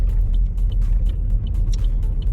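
A car drives along a road on a driving test near Wakefield, giving a steady low engine and road rumble with faint ticking above it, no talk.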